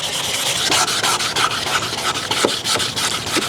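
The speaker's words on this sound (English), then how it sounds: "I like to start with 1000 grit sandpaper, and I like to wet sand the plastic" Wet sanding of a yellowed plastic car headlight with 1000 grit sandpaper, a steady close rasping rub with regular back-and-forth strokes, no talking.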